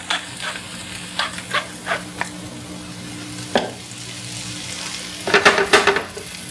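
Kale seasoned with salt and pepper sizzles steadily in a pan while a utensil scrapes and clacks in short bursts, ending in a quick flurry of stirring, with no voices.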